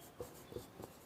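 Chalk or marker writing on a classroom board during a math lesson, three short faint scratchy strokes close by in a quiet room.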